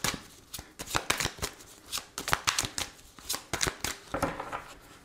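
Tarot cards are shuffled and cut by hand, a close run of crisp riffling bursts in quick irregular rhythm.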